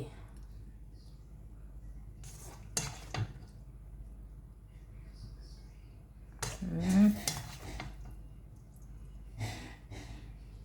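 A spoon scrapes and clinks against a pan as stir-fried pork with holy basil and crab-fat mushrooms is scooped onto a plate, a few soft bursts of scraping set apart by quiet pauses.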